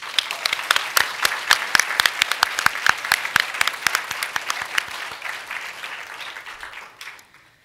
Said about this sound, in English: Let's have another round of applause for our faculty, staff, and alumni recipients.